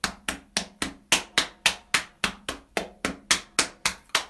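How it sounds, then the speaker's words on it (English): Hands drum steady alternating slaps on stomach and legs, low and high body percussion, about sixteen evenly spaced close, sharp hits with no voices. "use like your stomach as kind of the low sound, and then your legs as the high sound"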